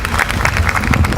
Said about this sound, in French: Applaudissez-vous les enfants